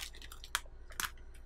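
Crunchy, spiced Indian snack chewed close up, with a few sharp, brittle crunches in quick succession over a quiet background.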